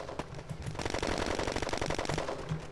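An automatic gun in the online shooter game Red Crucible: Firestorm fires a rapid, sustained burst of shots at close range, loud and continuous for nearly three seconds.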